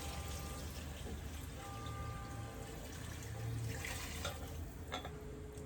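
Water poured into a tomato-free sauce, a continuous dense splashing and rushing wash heard steadily throughout at moderate level, with a faint voice briefly present under it.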